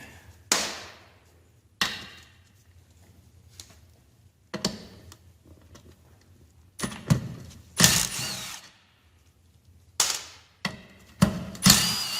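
A socket ratchet works on the bolts of a crankcase cover during the teardown of a 45-year-old engine: short bursts of clicking ratchet and sharp metallic clanks, close, separated by quiet pauses.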